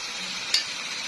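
Fried potatoes are stirred in an oily pan with a single quick scrape of the utensil. A soft, steady sizzle continues underneath.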